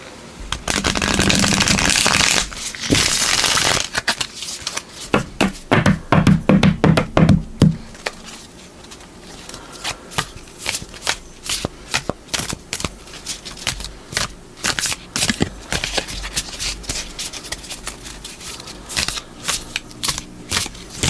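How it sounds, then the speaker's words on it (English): Tarot cards are shuffled in quick riffling bursts, then a long run of crisp, irregular taps and flicks as cards are handled up close. "One more shuffle."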